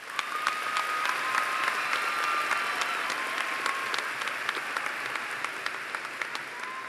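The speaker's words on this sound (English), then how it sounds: "everyone here applaud you for your bravery" A large crowd at a high school graduation ceremony applauds the graduating seniors, a dense, even wash of clapping that holds steady throughout with a few sharper claps standing out.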